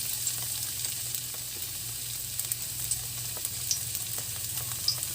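Ginger sizzles gently in a hot pan for a sardine omelette, a soft continuous frying hiss with small crackles and occasional stirring clicks, close and quiet.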